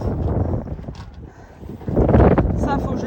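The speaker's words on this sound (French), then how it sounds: "Le vent est monté." Gusty wind buffeting a sailboat, rumbling and rising in strength with creaks of rigging and mechanisms close by, with a voice speaking briefly.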